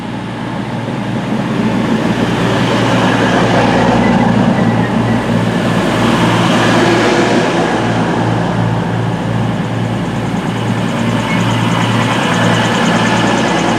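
A train rumbles steadily at Stafford railway station, loud and close, with continuous clattering wheel and engine noise holding throughout and no pauses.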